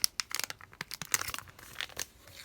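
Someone tears open a foil pack of cloud dust from a cloud slime kit, with a close, fairly faint series of crinkling, ripping crackles in quick irregular bursts and no talking.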